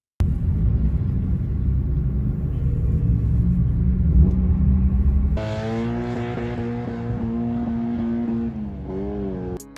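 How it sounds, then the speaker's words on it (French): Rally cars revving and rumbling at the start line of a small amateur rally race, a steady loud engine drone that shifts to rising, harmonic-rich revs and accelerations in the second half. "d'avoir vu le départ d'une petite course de rallye"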